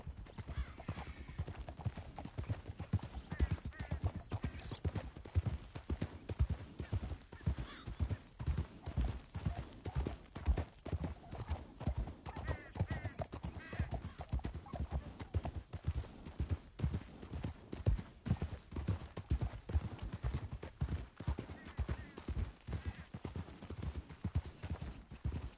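Horse hooves clip-clop steadily in Red Dead Redemption 2, a continuous rhythmic trotting close by that runs the whole time with no talk over it.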